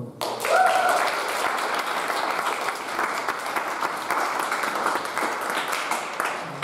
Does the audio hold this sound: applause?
yes